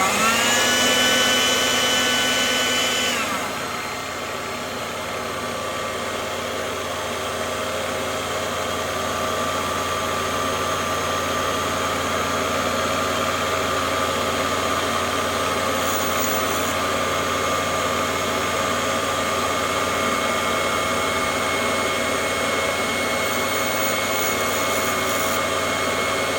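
A Black and Decker 282/550 valve grinder runs with its coolant on, giving a steady, close mechanical whine and hum that settles slightly lower after a few seconds and then holds constant.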